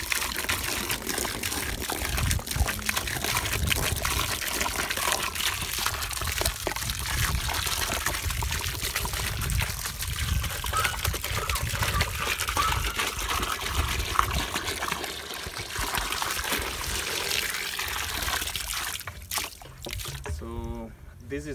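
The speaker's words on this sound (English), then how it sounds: "fill this with water." Water splashes and trickles steadily as it is poured to fill an azolla farm bed, a loud continuous gush up close that tapers off near the end, with speech faintly underneath.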